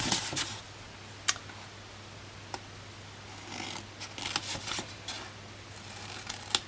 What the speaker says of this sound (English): I'm going to cut up these score lines just to where we go across in the opposite direction.